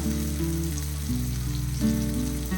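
Curry leaves sizzle in hot oil while chicken kondattam is being made. A steady frying crackle sits under a prominent layer of tonal background music.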